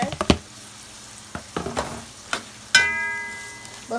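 Ingredients for Sierra Leone peanut butter soup frying in a pot, with a few soft sizzles, scrapes and stirring knocks over a low background hum.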